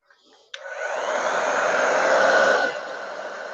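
A hair dryer switches on with a click and blows a steady, close whooshing roar while drying foiling adhesive on a plastic-covered image, then drops slightly in level as it moves away.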